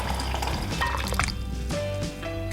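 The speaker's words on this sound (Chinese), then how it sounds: "倒入汤底" Vegetarian miso broth is poured into a ramen bowl over salt, white sesame and mirin, giving a soft continuous liquid splash and trickle that is close and fairly quiet.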